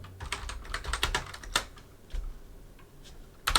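Rapid, uneven keystrokes on a computer keyboard, close and clear, coming in bursts of clicks with short pauses between them and no voices.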